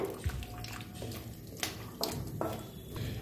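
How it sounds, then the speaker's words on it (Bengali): Marinated bottle gourd dropped into boiling water in a pot and stirred, with watery sloshes, splashes and drips, close and moderately loud, no talking. "এবার ম্যারিনেট করা লাউটা এর মধ্যে দিয়ে দিচ্ছি, জলের সাথে ভালো করে মিশিয়ে নিচ্ছি।"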